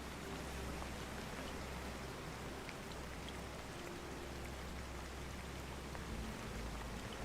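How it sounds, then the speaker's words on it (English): Steady rain falling at night aboard a wooden ship at sea, a continuous even hiss with faint scattered drop ticks and a low rumble underneath. "The rain begins to soften while the ship continues through the last hours of night."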